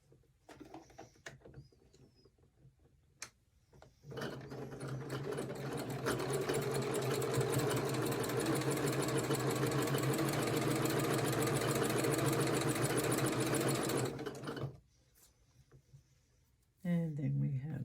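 A sewing machine stitches quilt block pieces for a sampler block, running steadily for about ten seconds after a few handling clicks, then stopping; a brief voice is heard near the start.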